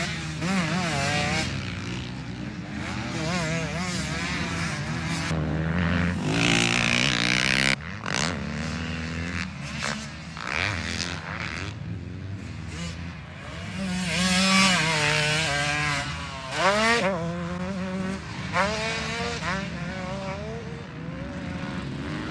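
A 125 dirt bike engine runs and revs hard on a motocross track, its high two-stroke whine swelling and falling in repeated bursts, loud and close throughout with no voices.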